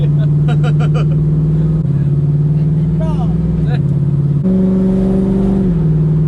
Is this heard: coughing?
no